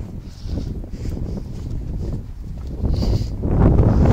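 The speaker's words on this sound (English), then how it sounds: "oh, windy." Steady outdoor wind buffets the microphone while walking, a rough, rumbling roar that swells louder toward the end, with no talking.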